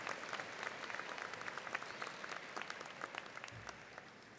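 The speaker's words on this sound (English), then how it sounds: "Let's show them some appreciation and give them a round of applause for all their love, support, and guidance over the years." Audience applause fills a high school graduation ceremony, a steady wash of many hands clapping at moderate distance with a few sharper individual claps, continuing evenly throughout without speech.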